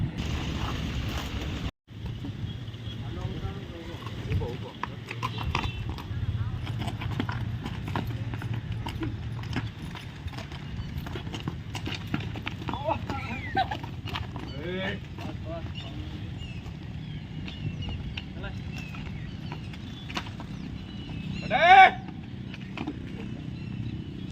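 Two mares' hooves clip-clop steadily and close by, with a short, loud neigh near the end, and people talk over much of it.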